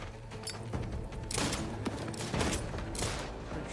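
Rapid bursts of gunfire from The Outer Worlds 2 crackle continuously, dense overlapping shots and impacts at moderate loudness with no clear pauses.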